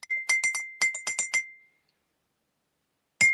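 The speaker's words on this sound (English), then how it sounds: "Is somebody like doing the beat to a glass?" Someone taps a quick rhythmic beat on a drinking glass, a run of bright ringing clinks with a sustained tone, then a pause and one more clink at the end, fairly faint and clear.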